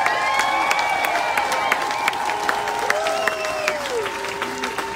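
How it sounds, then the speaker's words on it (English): Crowd at a midterm campaign rally applauding and cheering for Newt Gingrich, a steady wash of clapping with scattered whoops throughout, no talking over it. "Now let's give applause to Newt Gingrich."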